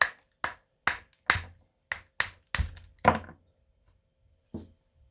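Small hammer tapping a lapidary stone piece set in plaster of Paris: about nine crisp, close knocks in an uneven rhythm, some in quick pairs, then a pause before a final tap.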